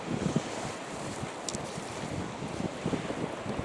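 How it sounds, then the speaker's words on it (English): Strong wind buffets an exposed spot high up, producing a continuous broadband roar and gusty rumble across the microphone with no speech. "it's blowing a bit too much for comfort up here"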